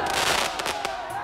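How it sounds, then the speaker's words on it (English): Fireworks go off in the Arby's Greek Gyro video game, several quick crackling bursts and pops in close succession, fairly loud and brief. "There's fireworks!"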